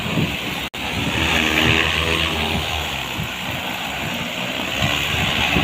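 A steady, loud motorized whir and buzz of an agricultural drone sowing paddy seed nearby in Malaysia, continuous throughout with wind noise and no speech.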